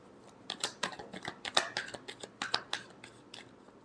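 Tarot cards shuffled by hand in a quick run of crisp riffling snaps and flicks, close and fairly loud with no talk.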